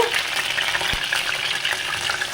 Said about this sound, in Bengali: রসুনটা একটু নাড়াচাড়া করে, রসুনটা একটু নাড়াচাড়া হলে এর মধ্যে দিয়ে দেব